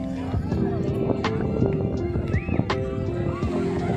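A horse whinnies amid hoof clops at Pearl City Beach in Thoothukudi, one rising neigh over busy beach ambience while people talk nearby.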